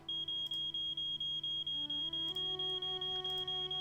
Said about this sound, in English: I hear the beeping this time.